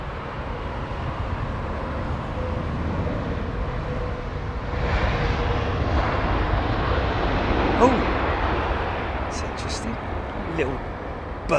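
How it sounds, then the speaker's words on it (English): A landing BA airliner at London Heathrow gives a brief burst of thrust reverser, a swell of broadband roar rising midway over steady engine rumble, then easing, with a few sharp clicks near the end. "Little burst of reverser"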